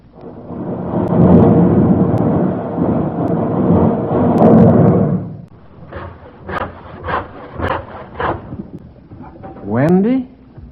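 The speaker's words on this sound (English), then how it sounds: "the first sound was supposedly that of a war, and the second one was sawing" A radio quiz-show sound effect of war rumbles as a dense, loud roar for about five seconds, then gives way to a rhythmic run of rasping saw strokes, with a brief voice near the end.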